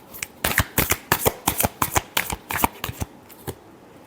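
A deck of tarot cards is riffled and shuffled up close in a quick series of about a dozen crisp, ruffling bursts. The bursts thin out toward the end.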